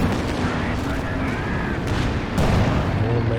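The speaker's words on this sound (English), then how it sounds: "Major artillery" Artillery barrages in Company of Heroes 2 during a 2v2 match, a dense rumbling wash of distant booms and gunfire that swells louder near the end, with faint voice-like tones mixed in.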